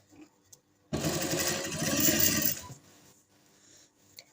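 A sewing machine stitches a folded fabric neckline in one steady, fairly loud run of about two seconds, with quieter handling noises before and after and no talking.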